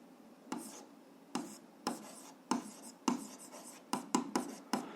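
A pen scratches across paper in short, quick strokes, roughly a dozen bursts with brief pauses between them, close and quiet, while an algebra graph exercise is written down.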